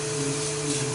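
Wood lathe spinning steadily while turning a Japanese-style cup, a constant motor hum with a fixed tonal whine, close and unbroken for about a second.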